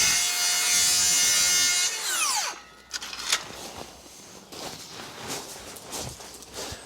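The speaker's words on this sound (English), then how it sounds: "Let's just cut a piece of timber here at whatever degrees it cuts it at." A power saw cuts through a piece of timber offcut, a loud high whine that drops as the blade spins down, followed by quieter clatter and handling sounds.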